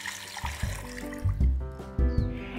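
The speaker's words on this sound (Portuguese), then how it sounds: "Agora a gente coloca a água." Water poured into a cooking pot of seafood feijoada ingredients, a short gurgling stream with low sloshing bursts, close and fairly loud with no talk.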